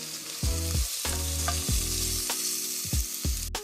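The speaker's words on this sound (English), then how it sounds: "After 2 minutes, you want to add in your minced garlic, and we're going to saute that for 1 minute" Minced garlic and onion sizzle steadily in a hot pan as a vegetable dish for collard greens cooks, with repeated scraping stirs of a utensil breaking the constant frying hiss, close and fairly loud, with no voices.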